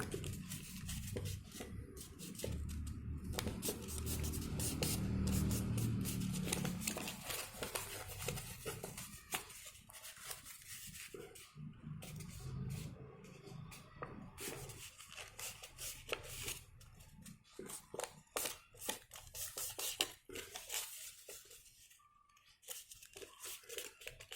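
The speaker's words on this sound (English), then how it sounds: "Fold it back like this" Paper being folded back for a school science craft, crinkling, creasing and rustling in scattered bursts with taps and rubs, close and fairly quiet, no talking.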